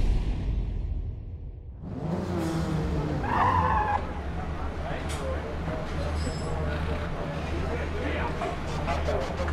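Race cars in Forza Motorsport roar past, with tires screeching in a long skid, then steady engine noise and whooshes under a person talking.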